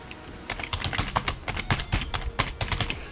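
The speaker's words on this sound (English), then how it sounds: "I'm just typing the name into the chat, Down Detector." Someone types on a computer keyboard close up: quick, irregular clusters of sharp key clicks with short pauses between bursts. No one speaks.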